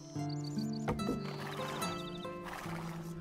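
Horse whinnying and hooves in the Age of Empires strategy game as a horse is attacked and killed, with several short neighs and clip-clop over layered game sound effects and tonal chimes.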